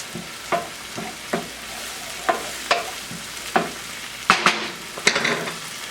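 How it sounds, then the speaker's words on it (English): Ginger and garlic fry in a pan with onions and peppers, giving a steady sizzle under repeated sharp clinks and scrapes of a utensil stirring, growing busier toward the end. "I'm going to go ahead and add our ginger and the garlic."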